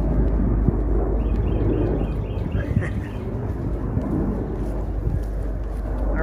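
A military jet passes overhead outdoors as a steady, broad roar under heavy wind noise, with faint voices in the background.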